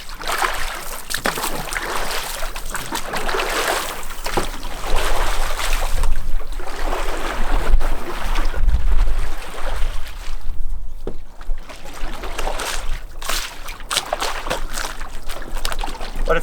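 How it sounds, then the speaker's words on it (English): Repeated stand-up paddleboard paddle strokes in open water, a rhythmic series of splashes and watery swooshes close by, each stroke rising and fading in regular cycles. "you can paddle on one side for about 10 to 15 strokes"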